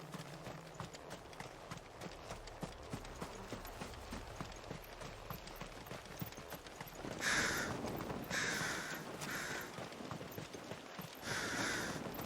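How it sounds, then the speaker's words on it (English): Crows in Final Fantasy XVI caw several times in short, fairly loud bursts as they take off, over steady clip-clopping hooves. "Kind of cool that they have all the crows and you walk near them and then they fly away"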